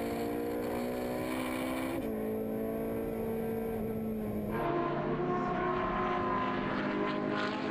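A Ferrari 458 race car engine drones steadily from inside the cockpit at Zolder circuit, its pitch shifting with gear changes and rising to a louder roar partway through.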